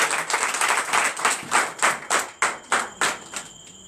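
A church congregation claps at a night deliverance service in rhythmic unison, about a dozen strong beats in a steady tempo, loud and close, with an audible clapping pattern rather than scattered applause.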